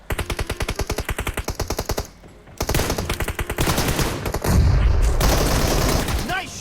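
Rapid automatic gunfire from PUBG Mobile rattles in a fast, even burst, pauses briefly, then resumes in denser, louder volleys with overlapping shots and impacts.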